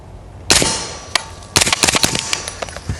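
A rifle at a range fires subsonic ammunition, giving a sharp but muted crack followed by more clattering reports and metallic action noises, close and loud with no talk.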